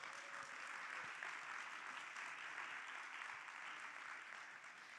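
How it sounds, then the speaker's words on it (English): An audience at an ITSMF conference in a hotel claps together. The sound is a dense, even wash of applause that holds steady for the whole stretch and is heard from a moderate distance, with no talking over it. "let's go ahead and give them a hand clap"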